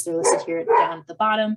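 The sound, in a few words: dog barking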